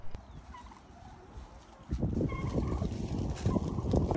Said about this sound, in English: the chickens look bored